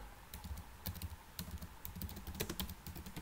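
Quick clusters of keystrokes on a computer keyboard while code is typed, sharp close clicks coming in irregular bursts with brief pauses between, no talk.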